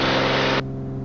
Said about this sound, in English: Power set, fuel flow is good, airspeed's alive. Up we go.